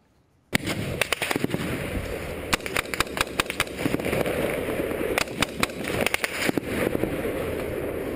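Gunfire recorded on a soldier's helmet cam: a long run of sharp, close cracks in irregular bursts. The shots rise above a steady loud background roar, with clusters of rapid reports throughout.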